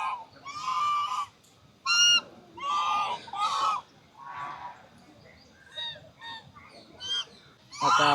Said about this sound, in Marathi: नुसतं क्वॅक क्वॅक करत आहे.